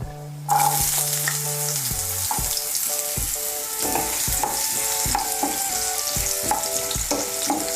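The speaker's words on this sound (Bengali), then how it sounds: "গাজরটাকে আমি একটু ভেজে নেব" Chopped carrots for fried rice hit the hot pan with a sudden onset of loud, close sizzling, then keep frying steadily while repeated spatula scrapes and knocks tap out an irregular rhythm.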